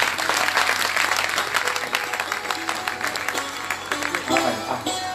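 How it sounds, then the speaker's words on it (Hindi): Sustained audience applause at a Bhagwatam religious discourse gathering in Baraut, loud, dense clapping filling the whole stretch, with faint voices mixed in. "इनके लिए जोरदार ताली बजाओ।"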